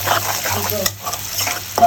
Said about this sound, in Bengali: সবজি মাছের তেলে আর কি দিয়ে দিচ্ছি